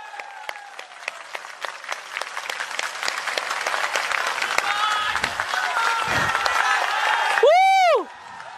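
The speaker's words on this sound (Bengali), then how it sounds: "যে হাততালিটা চলতে থাকবে কিছুক্ষণ ধরে" An audience at a crowded event in Sylhet applauds in sustained, dense clapping that builds and holds for several seconds, with a few cheers and a brief whistle near the end.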